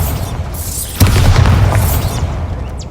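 A Bombarda spell blast in the Hogwarts Legacy video game, a single sudden booming burst that hits hard at about one second and then rumbles and crackles on at a steady loudness.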